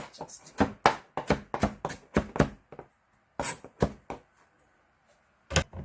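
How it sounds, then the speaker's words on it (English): A knife chopping spring onion on a cutting board in a Korean home kitchen, a quick run of sharp, distinct thuds, then a pause and a few more cuts, close and clear. "First, let's cut spring onion a little"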